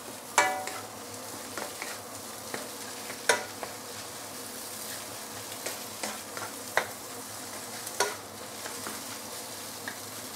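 Fried rice with five spice pork cubes stir-fries in a pan with a steady sizzle, punctuated by periodic sharp scrapes and clinks of a utensil against the pan.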